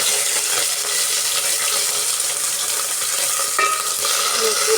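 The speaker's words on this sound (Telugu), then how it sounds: "ఈ తాలింపు పచ్చివాసన పోయేంత వరకు ఒక 5 నిమిషాలు వేగనిద్దాం." Dried red chilies, onions and curry leaves fry in hot oil as a tempering for dal curry, producing a loud, continuous close-up sizzle with fine crackles throughout.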